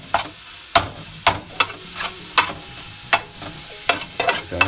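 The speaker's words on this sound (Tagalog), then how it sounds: "hintayin na po natin medyo maluto ng konti yung ating ground pork saka yung ating alamang" Ground pork and alamang shrimp paste fry in a pan for pinakbet, with a steady sizzle broken by the sharp knocks and scrapes of stirring, close by and without talk.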